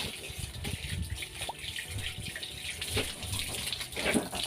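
Tap water runs into a container for changing the water of red water lilies, a faint steady splashing gush with slight fluctuations, heard close up without speech.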